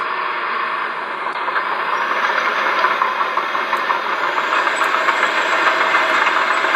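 A steady, droning engine hum with a faint mechanical whine from the sound module of a 1/14 RC4WD DXR2 hydraulic bulldozer, continuous and even throughout, no voices.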